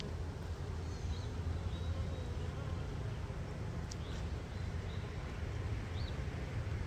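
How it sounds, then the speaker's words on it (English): A dense, continuous hum of a swarm of honeybees buzzing close by, steady throughout with a few brief higher whines drifting past. "That's a lot of bees."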